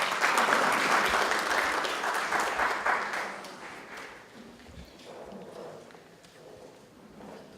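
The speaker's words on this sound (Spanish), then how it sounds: "Fuertes aplausos para el magíster." Audience at an academic art-school event applauding a speaker, a sustained round of clapping that is loud at first and gradually fades to a few scattered claps, fairly distant.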